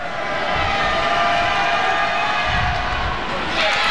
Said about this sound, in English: the Cabrini bench imploring the crowd to continue making noise